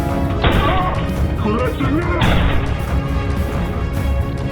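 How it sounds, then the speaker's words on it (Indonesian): Two sharp gunshots crack out about two seconds apart over a loud, dense film soundtrack, with a voice talking throughout. "tak lama muncullah tembakan yang berasal dari Ketchum"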